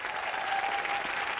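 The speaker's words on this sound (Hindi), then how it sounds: "एक बार बाबा के लिए जोरदार तालियां।" An audience on a Hindi TV comedy show breaks into loud, steady applause, a dense continuous roar of clapping with crowd noise throughout.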